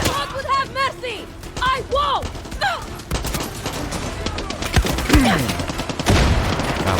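Pistol gunfire in the video game Far Cry 6, a run of sharp shots in quick bursts, with someone talking excitedly over them.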